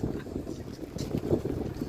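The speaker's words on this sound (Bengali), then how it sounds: "প্রচুর বাতাস হচ্ছে" Strong gusts buffet the microphone at a park in Bari, Italy, with a low, rumbling roar that swells and eases over a couple of seconds.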